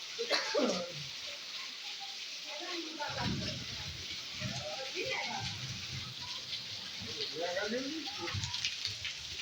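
Heavy rain pours down in a constant dense hiss, with voices talking over it on and off.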